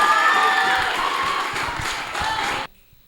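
A poetry slam audience claps and cheers for the next performer, a continuous mixed crowd of applause and whoops that cuts off abruptly near the end.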